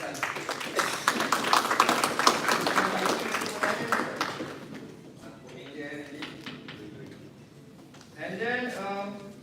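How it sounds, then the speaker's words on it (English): Audience applause in a mock parliament session hall, a burst of steady clapping for a few seconds that fades out, followed by quieter room sounds and a voice speaking. "So a round of applause to yourself."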